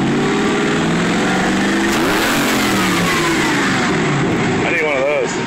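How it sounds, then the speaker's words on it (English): A 383 stroker engine in a car revs loudly and steadily nearby, its rough mid-range roar rising and falling, with people talking over it. "A little 383 stroker motor"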